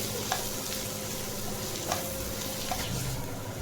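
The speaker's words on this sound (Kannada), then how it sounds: "ಈರುಳ್ಳಿ ಸ್ವಲ್ಪ ಫ್ರೈ ಮಾಡ್ಕೊಳ್ಳೋಣ ಈರುಳ್ಳಿ ಫ್ರೈ ಆಗ್ತಾಯಿದೆ" Onions frying in a pan while chicken liver fry is being cooked, a steady low sizzle running through with a few faint stirring clicks, quiet and continuous with no talk.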